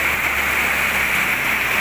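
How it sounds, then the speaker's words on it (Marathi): Torrential monsoon rain in Kerala makes a loud, even, unbroken roar of falling water for a short stretch, with no talking. "तर बघा मोठा ते मोठा पाऊस चालू आहे मित्रांनो जोरात"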